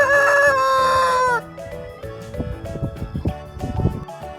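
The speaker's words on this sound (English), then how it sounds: "And they can cackle so loudly." Cartoon chickens cackle and crow loudly in a bright burst, followed by quieter clucking and scattered farmyard calls.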